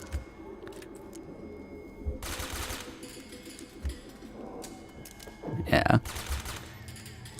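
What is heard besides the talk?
MP5 gunfire in video game Metal Gear Solid 4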